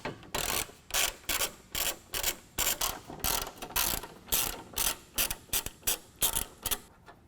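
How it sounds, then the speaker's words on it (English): A ratchet wrench clicks steadily while backing out 12 millimeter bolts beneath the headlights of a vehicle during front bumper removal, repeated bursts of close, crisp ratcheting with short pauses between strokes. "we've got a couple of 12 millimeter bolts. We're going to remove those from both sides."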